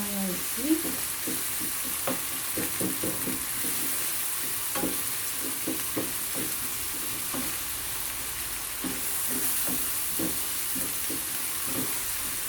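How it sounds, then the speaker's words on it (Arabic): Chicken breast filling with garlic fries in oil while being stirred, a continuous soft sizzle with repeated scraping and clinking of a utensil against the pan, close and steady. "نضيف العلبه ديال الثوم وغادي نحركو"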